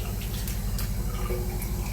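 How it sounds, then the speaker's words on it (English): Water pours into a container in a hard-water home, giving a close, steady trickle with gurgling, drip-like bubbling throughout. "So I put my water in there and then I add some mouthwash."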